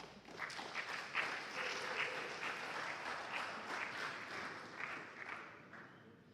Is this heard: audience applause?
yes